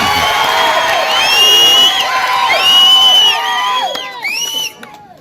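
A large crowd at a political rally in Nellore City shouts, whoops and cheers continuously, with many overlapping voices rising and falling, loud and close, then briefly dropping off near the end.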